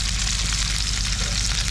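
Chopped frozen sausages fry in a pan with plenty of oil, a loud, dense, continuous sizzle and crackle heard up close with no talking.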